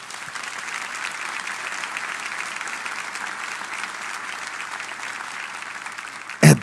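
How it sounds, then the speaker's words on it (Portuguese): A church congregation applauds steadily, dense even clapping from a crowd that holds at a constant level throughout, ending with a brief louder bump. "Você pode aplaudir ao Senhor."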